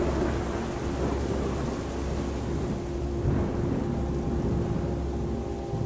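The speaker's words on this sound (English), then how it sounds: "only Grandote remained with his daughter in the howling wind and pelting rain" A radio-drama thunderstorm effect with howling wind and pelting rain forms a loud, steady wash of rain and low rumbling thunder that continues throughout, with no voices.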